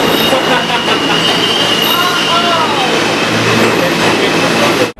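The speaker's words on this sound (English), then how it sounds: "The sound of the subway." A New York subway train rolls past nearby with a loud, steady rumble of wheels on rails and squealing tones rising and falling in the middle. Faint voices can be heard under the noise.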